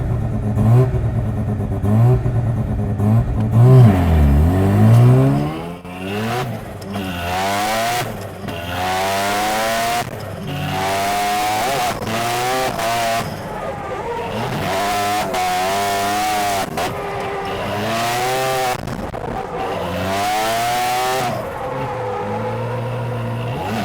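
A turbocharged drift car's engine revs hard and repeatedly on a D1 divisional course, rising and falling in loud, continuous sweeps that start rough and low before climbing into sustained high-rpm pulls.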